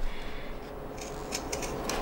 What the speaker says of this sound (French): je vais reprendre mes ciseaux cranteurs. Je vais cranter tout le tour, sauf au niveau de l'ouverture.